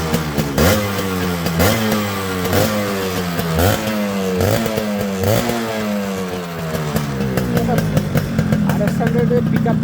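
Yamaha RX100 two-stroke motorcycle engine revving repeatedly in sharp rising bursts, with loud throttle blips dropping back between pulls, close and continuous, ending in a rough idle.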